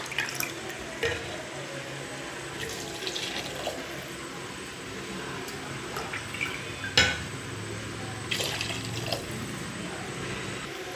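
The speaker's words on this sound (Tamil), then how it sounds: "இதில் இப்போ நம்ம 5 டம்ளர் தண்ணி ஊற்றணும்." Water is poured into a pot of mushroom biryani rice, a steady watery rush with intermittent splashes and clinks, moderately near and without speech.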